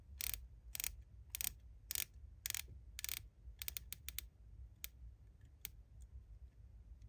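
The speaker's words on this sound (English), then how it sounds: "the bezel actions, because I think it's the material, it sort of impacts the feel and the sound of the clicks" A titanium dive watch's unidirectional bezel with a ceramic insert is turned in a quick series of crisp, close ratcheting clicks, bunched irregularly and thinning toward the end.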